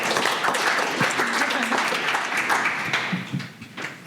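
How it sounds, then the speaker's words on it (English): An audience at a startup panel discussion applauds: a steady, dense wash of clapping across the whole stretch, fairly close and loud, easing slightly toward the end. "Round of applause, please."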